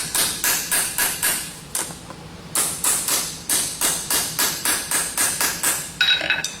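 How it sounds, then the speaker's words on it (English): Steady metal hammering with the round face of a hammer on a horseshoe, a long run of sharp even strikes with a brief pause partway, loud and close with no talking. "You're going to use the round face of your hammer."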